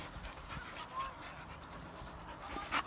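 A dog pants and gives faint whimpers outdoors on a path, a quiet breathy rhythm with a brief louder moment near the end.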